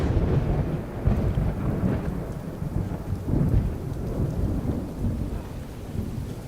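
Steady rain falls over the port of Dublin, a dense continuous wash of drops with low rumbling undertones, heavy and close throughout with no voices.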